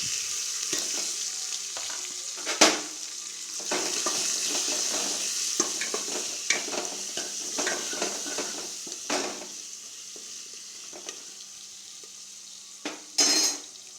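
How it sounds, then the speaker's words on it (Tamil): Onion, tomato, dried red chilli and garlic sautéing in a pan for a tamarind gram curry, a steady close sizzle broken by repeated scraping stirs and a few louder clanks of the spoon against the pan. "வரமிளகா பூண்டு தக்காளி எல்லாமே ஒன்றா போட்டு வணக்கிக்கலாம்"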